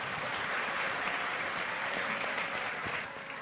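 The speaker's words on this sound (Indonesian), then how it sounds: "kita beri tepuk tangan Bapak." A lecture audience at an Islamic study gathering applauds steadily, a dense, continuous wash of clapping that holds at full strength before easing slightly at the end.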